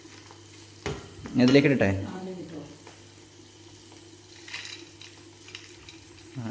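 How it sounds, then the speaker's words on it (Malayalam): Clams sputter and sizzle in hot oil as a second batch goes in, a sharp burst of stirring and spattering early on that settles into a quieter fry, with a brief voice speaking over it. "ഓക്കെ, നമ്മൾ സെക്കൻഡ് ബാച്ച് വറക്കാനിട്ടിട്ടുണ്ട്."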